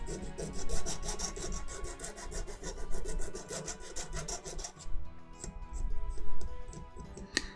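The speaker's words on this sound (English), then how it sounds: "I'm going to file it. So I'm just filing the lip off." A hand file rasps the lip off a 3D printer part in quick rhythmic strokes for about five seconds, then a few slower scrapes and a sharp tap, close and fairly quiet.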